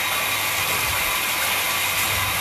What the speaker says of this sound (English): The great thing about having cordless clippers.